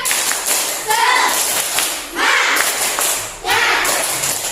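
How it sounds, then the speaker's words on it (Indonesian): A classroom of Indonesian pupils doing tepuk semangat, a rhythmic spirit clap in short bursts of group clapping, loud and close, mixed with the children's voices and some chatter. "Oke, tepuk semangat."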